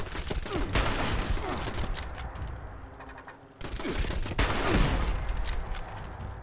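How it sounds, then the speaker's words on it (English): Bursts of gunfire in the video game Fallout 76, rapid volleys of shots at close range with a brief lull in the middle before another heavy salvo, with faint voice underneath. "Stop shooting at me."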